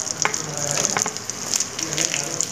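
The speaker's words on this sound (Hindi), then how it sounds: "मैं लहसुन की कुछ कलियाँ हैं मैं इसको इसमें भून लेती हूँ" Garlic cloves fry in oil with whole spices for a hotel-style shahi paneer, giving a steady close sizzle and hiss with scattered light pops and crackles throughout. No one speaks.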